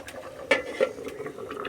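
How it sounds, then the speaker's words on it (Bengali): Ghugni, a spiced dried-pea curry, simmers in a pot, giving soft bubbling with a few brief pops and gentle kitchen clatter, quiet and close with no talking. "মানে ঘুগনিটা সব কিছু দিয়ে কষিয়ে এখন ফুটতে দিয়েছি"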